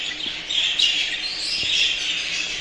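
Budgerigars in an aviary, an old male placed among females, chirp and tweet in quick, bright bursts that overlap continuously at close range.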